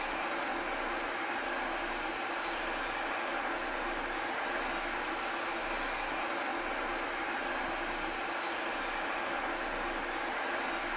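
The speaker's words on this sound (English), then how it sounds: "Start engine." An A-10C Thunderbolt II jet engine starting in Microsoft Flight Simulator, a steady broadband whine and rushing roar that holds even and unbroken throughout, with no voices present.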